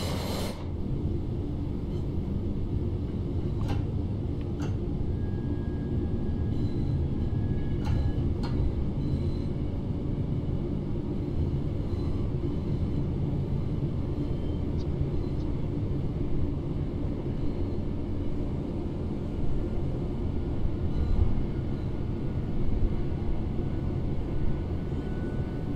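A Class 323 West Midlands Railway electric train on the Birmingham Cross City line in Train Sim World 4, heard as a steady low rumble of running with faint intermittent clicks and a brief tonal whine, continuous and alone.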